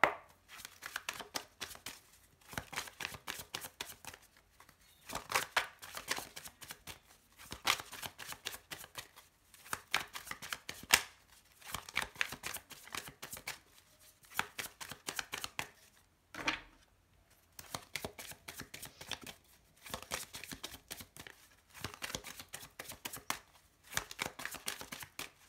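Tarot cards being shuffled and drawn in repeated bursts of riffling and snapping, close and fairly loud, with brief pauses between rounds and no voices.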